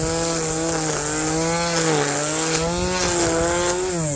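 An electric string trimmer cuts lawn grass with a loud, continuous high-pitched whine whose pitch dips and rises slightly as the line meets the grass, heard close up for the whole stretch.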